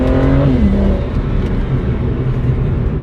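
A cheaply built BMW 335i revs hard under acceleration, its loud, close engine note climbing in pitch and then holding as a sustained roar before it cuts off abruptly at the end.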